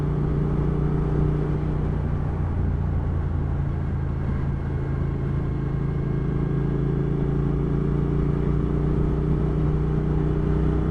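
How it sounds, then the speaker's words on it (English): Triumph Thruxton R retro café racer motorcycle with US Vance Hines pipes, baffles removed, idling with a deep, steady, throbbing exhaust note that holds constant and loud throughout, with no talking. "You might be able to hear the sound of the exhaust. It's got a set of US Vance Hines pipes with the baffles removed"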